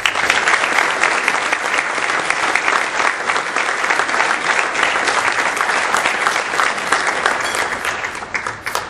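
An audience breaks into loud, sustained applause to welcome a speaker at an economics talk, steady clapping throughout before it begins to thin toward the end.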